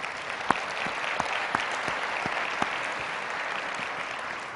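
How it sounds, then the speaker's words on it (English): Audience applause at an arts organisation's annual convention opening keynote in Pittsburgh, a continuous wash of clapping from a large crowd with a few sharper individual claps standing out, fairly distant and even. "So give yourselves a round of applause,"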